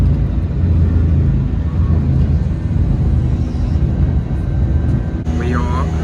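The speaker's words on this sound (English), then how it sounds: "We are now on the plane and in the air amongst the clouds." Steady cabin roar of an airliner in flight above the clouds, a loud unbroken low rumble and whir that fills the whole stretch, with a person speaking over it near the end.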